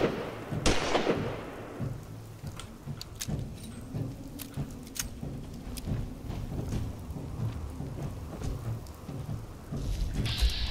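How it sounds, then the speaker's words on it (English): Rain and thunder in a video game, steady rainfall with a sharp thunderclap near the start and rumbling throughout, crackling drops and distant booms continuing for around ten seconds. "And now it's starting to rain"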